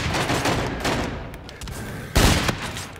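Rapid bursts of automatic gunfire from Call of Duty Infinite Warfare, loud and close, rattling continuously with a sharper, heavier volley near the end.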